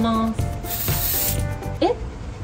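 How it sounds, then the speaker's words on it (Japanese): A can of gold spray paint sprays onto foam in a short, steady hiss lasting about a second, with brief vocal sounds around it. "キンキラキンっていうやつをスプレーしてみます。"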